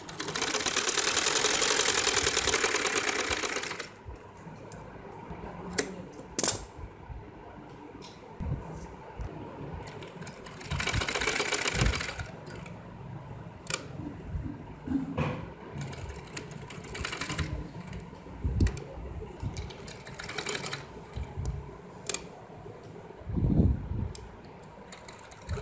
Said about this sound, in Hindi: अब हम इसकी दूसरी तरफ भी उसी डोरी के दूसरी तरफ भी सिलाई लगा लेंगे